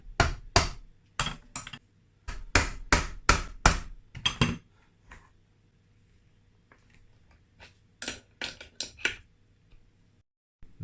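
Sharp taps ring out on Yamaha DT125R engine casings during a bottom-end rebuild, hard knocks in two quick bursts of about a dozen strikes separated by a quiet pause with faint clicks, close and fairly crisp.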